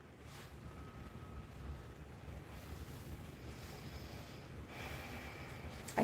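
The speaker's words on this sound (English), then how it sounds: "it's now pouring rain" Heavy rain pours down outdoors at night, a steady broadband wash with gusty wind buffeting the microphone, loud and continuous throughout with no voices.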